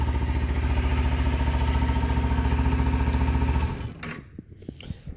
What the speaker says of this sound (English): So as you can probably hear, the stock exhaust isn't too loud. Most of the sound that you're hearing is coming from the engine rather than the exhaust.